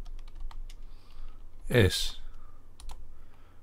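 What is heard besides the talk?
typing a command on a computer keyboard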